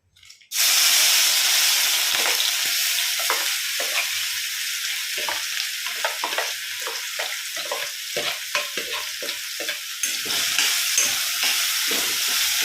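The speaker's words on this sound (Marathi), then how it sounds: "तेल गरम झालेलं आहे तर चॉपरमध्ये आपण जे केलं होतं बारीक कांदा टोमॅटो लसूण आणि मिरची तर ती टाकून घेऊयात" Finely chopped onion, tomato, garlic and green chilli hitting hot oil in a pan, bursting into a loud, steady sizzle that carries on with rhythmic spatula stirring and scraping throughout.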